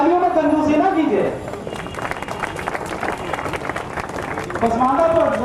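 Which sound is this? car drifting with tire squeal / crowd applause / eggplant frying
crowd applause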